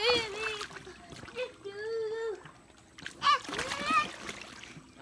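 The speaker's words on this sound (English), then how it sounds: "let's not splash water at my phone" Water splashes in brief splattering bursts near a phone, with a voice and other voices chattering over and between the splashes.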